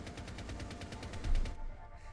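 Rapid automatic gunfire from a Rainbow Six Siege match, a steady burst of evenly spaced shots that cuts off partway, with a heavier thump near the end.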